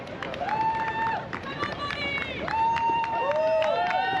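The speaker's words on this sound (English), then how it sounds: "Some great crowd support here" A roadside crowd at the Rome Half Marathon halfway point cheers and shouts, with whistle-like whoops rising and falling over steady, continuous crowd noise close by.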